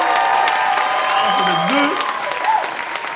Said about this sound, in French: Pouvez-vous donner un tonnerre d'applaudissements, s'il vous plaît, mesdames et messieurs?